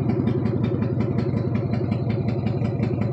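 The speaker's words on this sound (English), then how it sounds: "If you listen, you can hear my van and what it sounds like right now." A worn 1997 van engine idles roughly in the early morning, a low, steady rumbling chug with a slight uneven pulse, heard close with no one talking.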